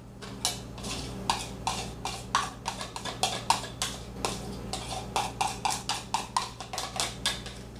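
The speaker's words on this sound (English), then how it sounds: "I'm going to stir that around a good bit" A spoon scraping and clacking against a bowl while melted butter is stirred into graham cracker crumbs for a key lime cheesecake crust, with a quick irregular run of sharp clinks and taps, close and moderately loud, without speech.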